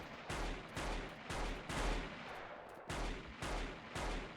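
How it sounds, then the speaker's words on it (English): German guns fire in the game Battlefield Yugoslavia as a string of fairly faint, evenly spaced heavy shots, each ringing out briefly before the next, with no voices. "we just got shot with some German guns"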